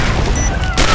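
A bomb going off in a video game: a loud, broadband blast bursts in near the end of a second of dense, rumbling game noise, with a player's voice mixed in.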